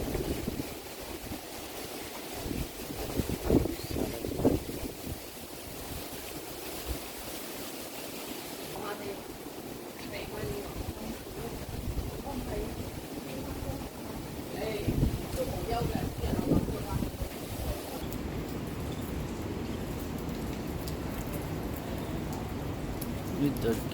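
Strong Typhoon Ragasa wind and rain in Hong Kong: a constant broad roar of gusts and driving rain, with splashes and rattles throughout and a voice talking beneath it.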